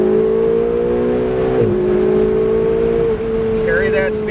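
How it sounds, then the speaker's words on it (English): A Ferrari 488 at Pacific Raceways in Kent, Washington, strains uphill in a loud, sustained engine note that climbs steadily and then dips at a shift, with an instructor's voice over it. "Go ahead and give it gas all the way up the hill"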